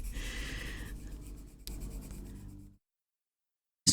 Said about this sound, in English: Just going over all that pencil to blend it in nicely and make sure we get all the paper covered.